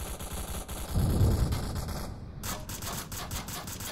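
Rapid gunshots crackle in the VR shooter game Onward, a teammate firing from the wing during a competitive match; a dense, steady burst of shots runs throughout, with a louder swell partway through and no talk.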